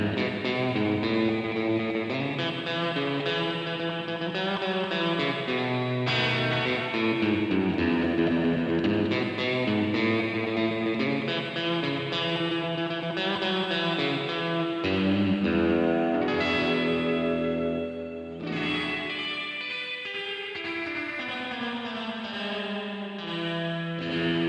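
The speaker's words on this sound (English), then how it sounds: "So you can hear that lo-fi kind of ringing and that clanginess, especially if I turn the mids up." A Chase Bliss CXM 1978 reverb pedal on a spring preset gives played notes a lo-fi, ringing, clangy tail, dense and sustained throughout with shifting pitches and a brief dip near the end.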